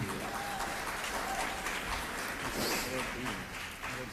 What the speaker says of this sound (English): I hope that wonderful applause doesn't come out of my time.